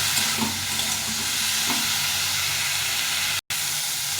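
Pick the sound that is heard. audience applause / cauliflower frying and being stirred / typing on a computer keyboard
cauliflower frying and being stirred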